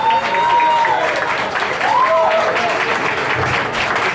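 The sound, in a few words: audience applause for a dance couple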